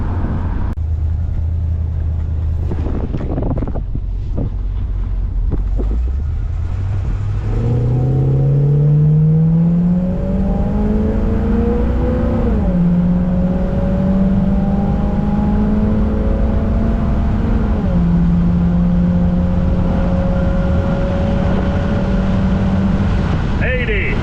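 A 1967 Pontiac Grand Prix convertible's engine rises from idle into a full-throttle pull on a two-lane paved road, revs climbing steadily in a loud continuous roar with a brief shift dip before holding high; a voice is heard briefly at the start.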